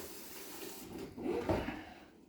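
Tap water running into a container for kit wine making, a faint close trickle that swells briefly into a fuller splash before easing off.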